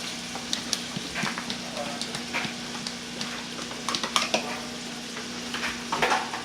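Cilantro stir-frying in a wok for seafood fried rice: a steady close sizzle with frequent scraping and tapping of a utensil against the pan, and a low hum in the background.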